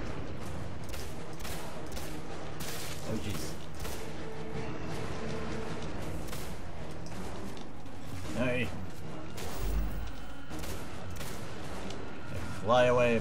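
Repeated gunfire in the video game Singularity crackles through a busy combat mix of scattered shots and impacts, with a person talking over it.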